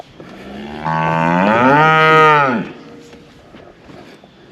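Cows on a cattle farm, one giving a single long, loud, close moo that rises and then falls away, with faint background noise afterward.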